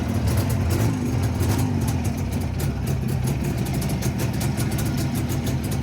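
JAWA 350 motorcycle engine running smoothly at a steady idle, a continuous close low throb with even firing and no voices.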